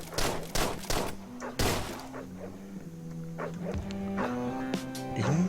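Hellhounds in the video game Deadbolt bark repeatedly amid game noise, with several sharp bursts at the start and more near the end over a steady low hum and sparse thuds.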